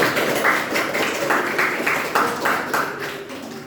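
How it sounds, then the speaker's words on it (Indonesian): A classroom audience claps to praise a student, a dense, steady patter of many hands at close range that swells in a loose rhythm throughout, with no talk over it. "Tepuk tangan yang meriah untuk Mas Zaki."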